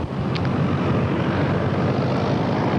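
Steady, loud drone of a medium twin-engine propeller plane, a seven-passenger aircraft, running continuously with no talking.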